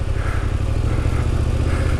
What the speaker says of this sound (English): I'm pushing the Tenere's power band, I'm revving it up